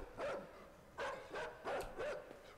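A dog barks in the game INSIDE, four rhythmic, fairly faint barks spaced about half a second apart over a low background hum, with no talk.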